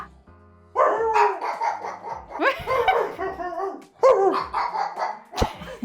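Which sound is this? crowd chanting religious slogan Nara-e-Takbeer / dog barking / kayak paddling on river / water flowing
dog barking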